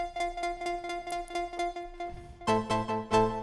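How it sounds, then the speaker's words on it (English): A Bitwig Studio 5 Polysynth patch blending two mixed waveforms plays a quick run of bright, buzzy repeated synth notes, then shifts to a thicker, fuller chord-like passage of pulsing hits near the end. "But when we mix it with waveform 1, let's hear how it sounds."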